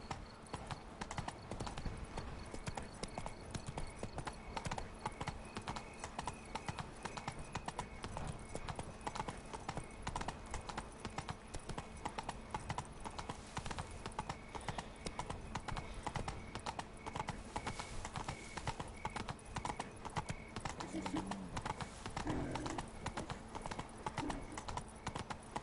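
Roach, the horse in The Witcher: Blood and Wine, gallops in a fast, even rhythm of hoofbeats that holds steady across the whole stretch, loud and close over game ambience.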